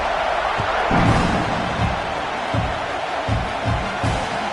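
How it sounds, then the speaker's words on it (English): A Texas A&M college football stadium crowd buzzes after a score, a broad, continuous roar with scattered low thumps and swells, loud and enveloping from start to finish. "this crowd is buzzing after that last score"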